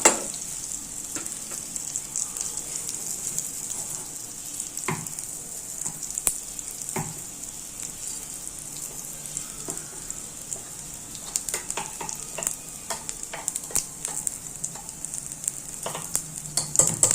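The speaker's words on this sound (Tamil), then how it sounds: "நல்லா பொரிஞ்சிட்ருக்கு" Asafoetida and seasoning frying in hot oil for a cabbage chutney, a steady bright sizzle running throughout with scattered sharp crackles and pops, growing busier toward the end, no voices.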